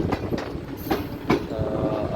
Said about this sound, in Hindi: तो ट्रेन आगे से टर्न लेकर प्लेटफॉर्म की तरफ जा रही है।